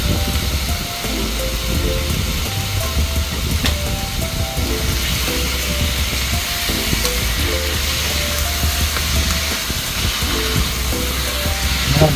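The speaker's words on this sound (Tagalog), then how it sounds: "Igisa lang muna natin dito sa ating sibuyas at saka dun sa ating kamatis." Pork ribs sautéing with onion and tomato in a pan for sinigang, giving a steady close sizzle and frying hiss that runs unbroken throughout with no talk.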